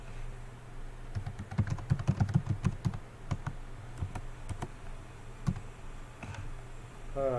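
Keys clack on a computer keyboard in a quick burst of close, irregular taps, then slower scattered keystrokes trailing off, with no one talking.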